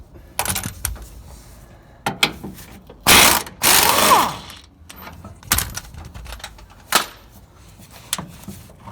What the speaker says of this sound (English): for the upper bolt, all we're going to need is a 21mm socket